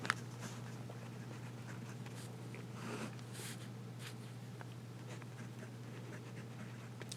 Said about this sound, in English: nice smooth nib, fast writing